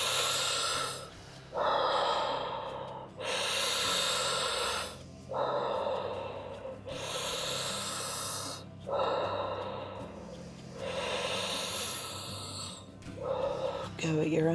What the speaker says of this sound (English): Okay, back to deep inhale.